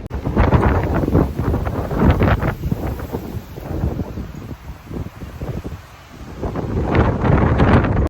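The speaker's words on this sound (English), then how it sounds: "Oh, it's gonna be nice to get inside where the wind is not so crazy." Strong gusty wind roars and buffets across a microphone outdoors at an amusement park, loud and close, swelling and easing in waves for the whole stretch with no voices heard.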